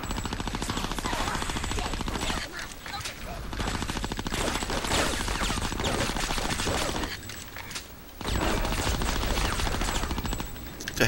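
Grenades and gunfire in the game Conker: Live and Reloaded keep up a dense, loud clatter of rapid blasts that breaks off briefly a few times, with a voice talking faintly underneath.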